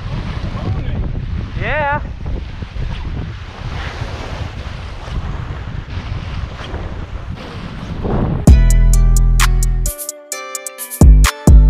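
Strong, cold wind roars across a Florida beach during surf fishing, buffeting the microphone in a steady rush with surf underneath, then a burst of heavy distorted gusts near the end; a brief spoken word is heard.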